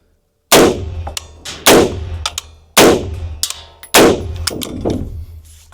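A Colt IAR rifle fires four loud, sharp shots about a second apart, each crack trailing off in a metallic ringing echo before the next.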